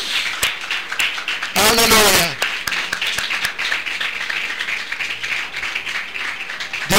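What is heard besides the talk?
church congregation applause offered to God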